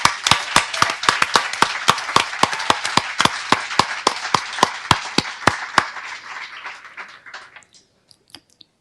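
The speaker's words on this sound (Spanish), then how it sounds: "qué les parece si le damos un aplauso una vez más a nuestro Señor?" Applause at a church service, a few close, sharp handclaps in a quick irregular rhythm over a softer patter, thinning out and stopping after about seven seconds.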